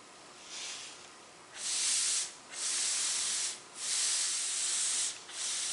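Abrasive blasting gun frosting and etching glass, a steady airy hiss that swells into several loud sustained bursts with brief dips between them, close and with no talking.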